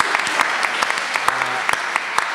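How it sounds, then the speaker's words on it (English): Audience applause at a panel discussion about life in the Los Angeles River, a steady crowd of clapping that runs through the whole moment at even loudness, with no talk over it. "I'd like to ask for a second round of applause for such an amazing essay."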